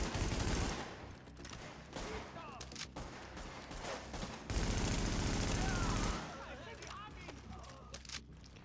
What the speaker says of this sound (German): Ich höre die Schüsse aus dieser Knarre gerne